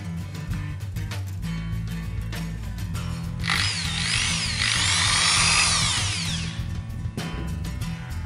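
An electric drill with a keyed chuck whirs up to a loud, close whine for about three seconds over a steady low background hum, with scattered clicks and knocks before and after.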